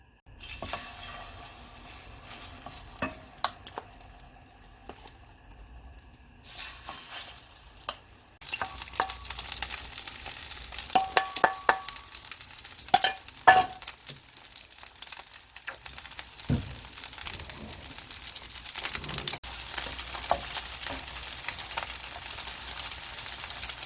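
Pollock pancakes (fish jeon) pan-fry in oil with a steady, loud sizzling hiss that swells partway through, broken by occasional spatula scrapes and ticks, close up and with no talk.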